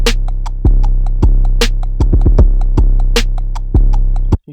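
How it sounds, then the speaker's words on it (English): Trap beat in which an aggressive 808 kick slams in hard on the downbeat, layered with a deep sustained 808 bass and crisp hi-hat ticks, looping loud and punchy with no voices. "So you could do something really aggressive with the kick so that it comes in really hard,"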